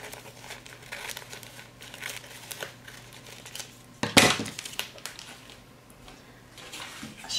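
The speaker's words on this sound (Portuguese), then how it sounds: "Agora vou usar uma capa plástica, também conhecida como mica, e vou cortar uma tira" Plastic sheet of mica being handled and cut into a strip, with soft crinkling throughout and a sharper crackling rustle midway, close and quiet.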